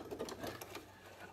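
A sewing machine runs a steady, rapid zigzag stitch on bias binding for wrestling gear, needle thumps repeating in a quick even rhythm, close and continuous with no talk.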